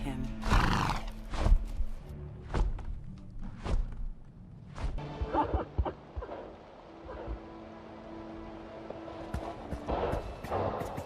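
A great winged horse in the video game Argonus neighs loudly, with heavy hoof thuds and clip-clop steps before and after, mixed with game sound effects.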